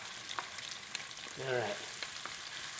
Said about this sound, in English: Now, I'm going to saute this onion on high heat for about 2 or 3 minutes